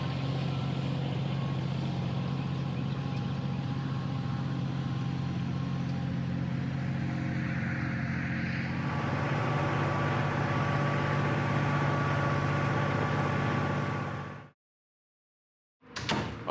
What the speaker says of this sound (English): now I can hook the trailer up to the tractor and pull her on around